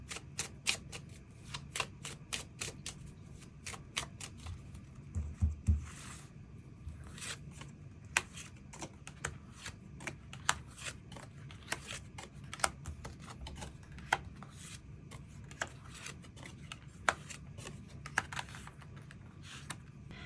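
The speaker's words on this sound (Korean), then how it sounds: "추가 카드 뽑아보도록" Tarot cards are shuffled and drawn at close range, a long run of crisp, rapid clicking and flicking with brief pauses and a soft thump partway through, no talking.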